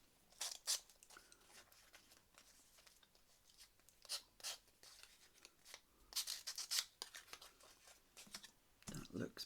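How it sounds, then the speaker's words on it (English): Paper being crumpled by hand to age a grunge file folder produces scattered, quiet crinkling and rustling bursts, close up, with a few faint handling noises between them. "You could, if you wanted, just"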